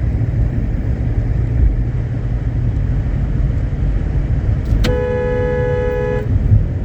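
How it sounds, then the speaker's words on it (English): Steady road noise from inside a car, then a loud car horn blares once for over a second near the end. "so I had to honk the horn"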